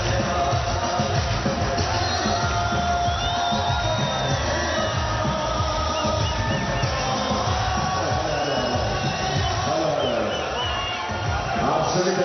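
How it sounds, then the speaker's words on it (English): A huge crowd at the India border ceremony on Independence Day roars, chants and cheers without pause, a loud, dense wall of voices with rising whoops and shouts across the whole stretch. "listen in to the music and the chants there at the border"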